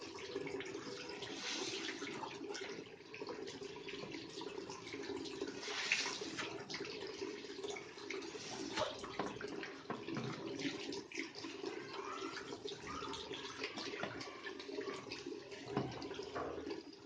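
Pressurised water jet rinsing a dirty RO water purifier membrane, loud steady broadband spray and splashing running throughout with slight surges, no talking.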